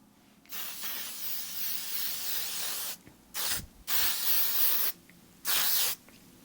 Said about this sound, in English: I'm debating if I want to do the L'Oreal Infallible 3-second mist, just because this is going to really help to lock on my makeup.